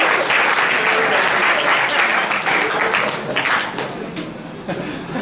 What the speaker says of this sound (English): clap it up for superheroes